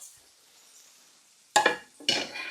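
Pasta lifted from a frying pan onto a plate with tongs, heard as two sharp metallic clatters of tongs against the pan, close and loud after a quiet start.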